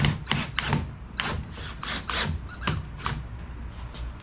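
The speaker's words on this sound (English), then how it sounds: "Now I get those screws in to one side." Screws driven one after another into the glued wooden corner of a lock box, a run of short ratcheting, creaking bursts in an uneven rhythm, close and fairly quiet.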